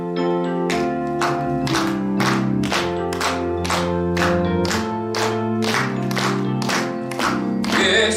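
A church congregation claps along steadily in time to a hymn during a Sunday service, even beats under a loud sung melody with organ or keyboard accompaniment.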